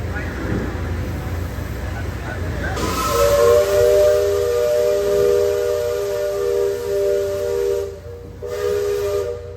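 A loud, sustained steam whistle from a river ride boat at Tom Sawyer Island blows with a steady tone over hissing steam and engine noise, cutting off briefly near the end; the ride's halfway whistle.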